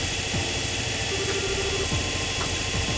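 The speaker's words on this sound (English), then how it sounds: "Definitely a lot louder than normal engines." A loud tool engine powered by burning gas runs in the Trails in the Sky game, a steady low mechanical drone with a faint whining tone held over it and no voices.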